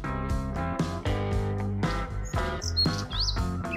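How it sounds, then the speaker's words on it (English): A parrot gives a run of harsh, choppy squawks and chirps, loud and close, with several calls packed into a few seconds. "Parrot."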